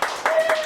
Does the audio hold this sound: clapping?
yes